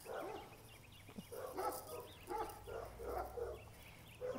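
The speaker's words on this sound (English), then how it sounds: "I see why the dogs are barking, because there's another dog walker" Dogs barking at another dog walker during an outdoor walk, with repeated medium-loud barks in uneven bursts a short distance off.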